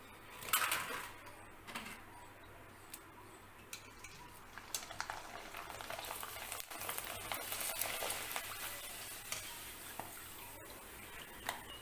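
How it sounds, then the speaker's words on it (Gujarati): Rice-flour papad frying in hot oil in a wok, giving a faint, steady bubbling sizzle with scattered small crackles and ticks. "હવે પાપડ આપણે તળીને ચેક કરી લઈએ."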